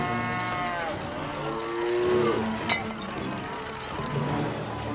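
Cows low in the South Park: The Stick of Truth video game, with several drawn-out moos overlapping at moderate loudness above a steady game backdrop and a brief clink partway through.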